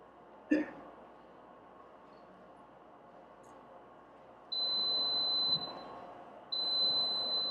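A homemade refrigerator door alarm buzzer sounds as a steady high-pitched electronic tone in two sustained bursts, following a sharp click, over a low background hum.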